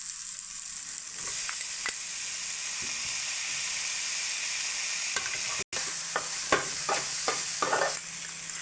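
Tomatoes frying with softened onions for beef curry, giving a steady loud sizzle and hiss that runs throughout, with a brief gap and several spoon strokes stirring the pan toward the end.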